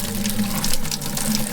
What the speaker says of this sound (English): We can hook a garden hose to this and blow it through.